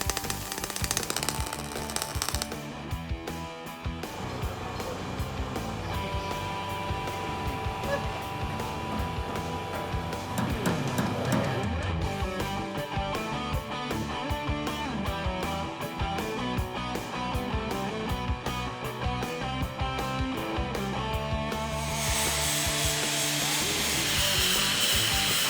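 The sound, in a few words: machining and drilling out a lug nut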